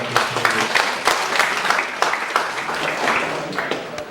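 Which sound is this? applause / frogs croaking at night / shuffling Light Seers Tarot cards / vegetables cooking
applause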